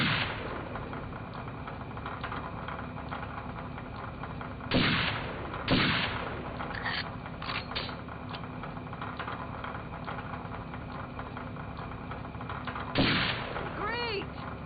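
Gunfire in the video game Second Sight: a few sharp, loud shots rise at intervals over a steady low in-game hum, with gaps of quieter ambience between them.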